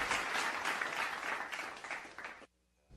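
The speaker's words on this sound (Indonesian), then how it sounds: "Tepuk tangan dulu dong." Applause from an audience after a host calls for it, dense and steady clapping for about two and a half seconds before cutting abruptly to near silence.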